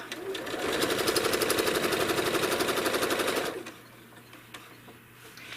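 A home sewing machine does free motion quilting, its rapid, steady stitching running loud and close for several seconds before stopping abruptly, leaving a quiet room hum.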